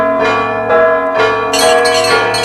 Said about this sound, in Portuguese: Os sinos tocam em antecipação a chegada do metropolita